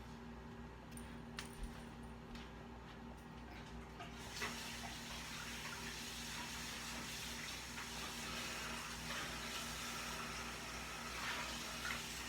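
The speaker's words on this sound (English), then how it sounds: "I'm going to put a little hot water in there to sort of thinning it out." Hot water is poured into a pan of Swedish meatball sauce, giving a steady broadband watery rush that swells after a few seconds and keeps running close and continuous without speech.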